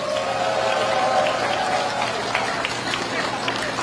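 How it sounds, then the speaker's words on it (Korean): Crowd of Jinju citizens applauding and cheering at a presidential campaign rally, a dense steady wash of clapping with scattered voices and shouts mixed in throughout. "우리 진주 청년 서민들 학생에게 큰 박수 부탁드립니다"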